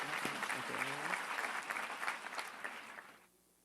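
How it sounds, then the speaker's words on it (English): An audience breaks into dense, crackling applause that holds steady for a few seconds, then thins and fades out near the end. "Give a round of applause."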